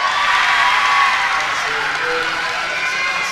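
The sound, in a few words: crowd cheering at women's basketball game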